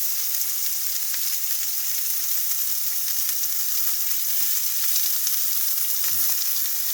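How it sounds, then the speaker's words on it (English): Onions sizzle steadily as they sauté in a pan for a low-carb Southern breakfast, a continuous close hiss of frying with no voices. "When you put those onions in that pan and they start sizzling like that"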